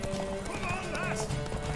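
Horse hooves clip-clop steadily in Witcher 3 as a horse whinnies, set against game music and a voice speaking over it.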